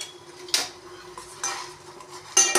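A spoon stirs boiling water and jaggery with a pinch of cardamom powder in a pan, giving a few sharp metallic scrapes and clinks against the pan over a soft bubbling background.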